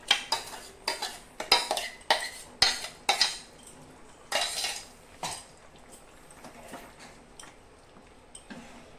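A spoon stirs cashew-poppy paste into chicken rezala in a metal pot, giving a run of clinking, scraping knocks that later thin out to a few soft taps, close and moderately loud, with no talking.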